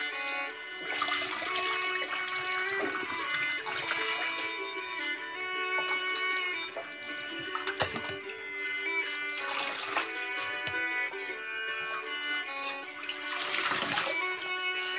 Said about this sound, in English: we're just going to put them in here so they can be draining the extra water off of them